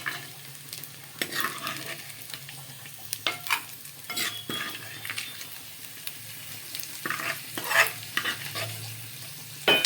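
Onions fry in a pan for a ridge gourd curry, a soft continuous sizzle broken by repeated spatula scrapes and knocks, close and fairly quiet, with no voices.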